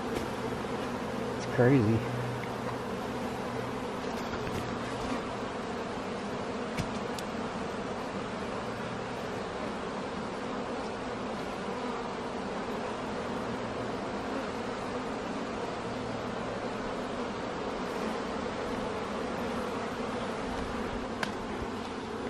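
Honeybees swarming inside a dishwasher, a steady, dense low buzz that hums continuously throughout at fairly quiet level, with a brief voice speaking early on.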